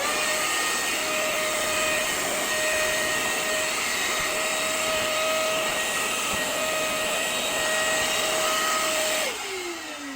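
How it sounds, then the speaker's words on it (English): A Hoover Cleanslate carpet cleaner running on an RV ceiling gives a loud, steady whirring whine with a high motor tone, then winds down as the motor cuts off near the end. "I'm using a Hoover Cleanslate, and you can see the garbage already collecting in there."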